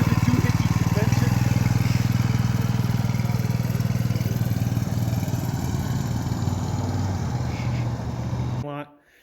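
Small gas engine fitted to a mobility scooter, droning steadily at close range as the scooter runs around a parking lot, then cutting out abruptly at the end.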